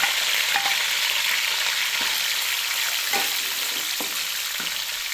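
Onions fry loudly in a pot of hot oil for beef pulao, a steady dense sizzle running throughout with a few soft scraping stirs of a spoon, and no voices.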